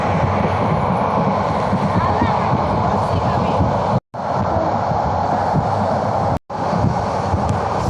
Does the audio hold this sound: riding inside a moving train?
yes